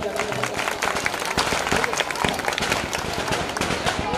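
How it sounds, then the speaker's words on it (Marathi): An audience at a public function claps loudly and continuously, a dense, steady wash of clapping with voices mixed in. "जरा जोरदार टाळ्या होऊन जाऊ द्यात"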